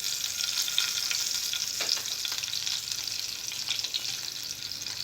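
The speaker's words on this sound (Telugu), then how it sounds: "ఎగ్స్ ఫ్రై చేసుకున్న ఇదే ఆయిల్లో బిర్యానీ ఆకు, లవంగాలు, దాల్చిన చెక్క వేసుకోవాలి" Bay leaf, cloves and cinnamon sizzling in the hot oil left from frying eggs for Hyderabadi egg kurma, a steady, close crackling hiss with faint stirring, no voices.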